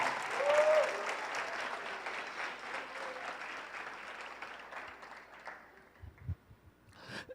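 A church congregation claps loudly and steadily during a worship service, a dense burst of applause that gradually thins and fades over several seconds before a few scattered knocks at the end.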